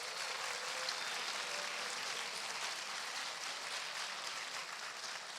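Steady, fairly quiet applause from an audience at a debate between regional constituent council candidates in O'Higgins, Chile, greeting students of the Liceo Politécnico. The clapping holds an even wash for the whole stretch with no talk over it.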